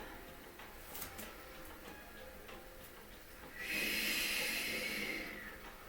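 Slow exhale during a yoga exercise, a soft breathy hiss that swells loud and close for about two seconds, preceded by faint quieter breathing and room noise.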